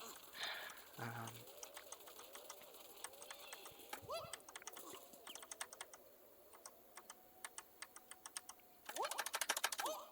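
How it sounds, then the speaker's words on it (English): Close, steady typing on a computer keyboard in clicky bursts, with pigeons cooing softly nearby and a quieter stretch before a final flurry of keystrokes. "you can probably hear my keyboard."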